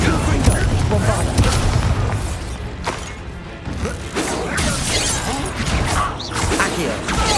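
Spell explosions from Bombarda and Confringo in the Hogwarts Legacy video game burst repeatedly in loud, crashing booms amid clattering game effects, with a brief dip in the middle before more blasts follow.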